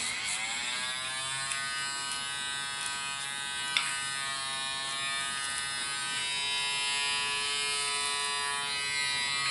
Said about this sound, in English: This is the kind that I use, a vibrating electric toothbrush